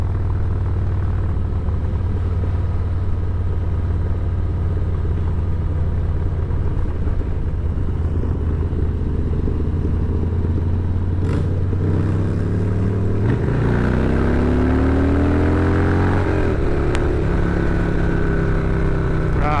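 Harley-Davidson Low Rider S and Sportster motorcycles ridden on roads in Tennessee, a steady low engine rumble with wind throughout, rising in pitch as the bikes accelerate and shift near the end.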